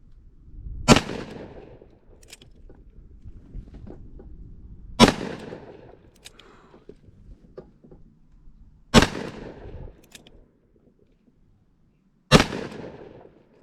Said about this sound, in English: now we're going to finish off with 158 grain again, but this time 357 Magnums